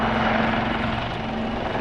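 A Commando helicopter comes in to land at an airshow, its loud, steady rotor and engine roar filling the whole brief moment.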